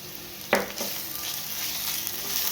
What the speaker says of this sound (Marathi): व्यवस्थित परतवून घेऊ अद्रक लसूण आणि हिरवी मिरचीची पेस्ट टाकून घेऊ